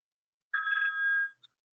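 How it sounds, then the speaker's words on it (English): A telephone in an office gives one short, clear electronic ring in an otherwise quiet room, followed by a faint blip. "Michelle, your phone is ringing over there in the office."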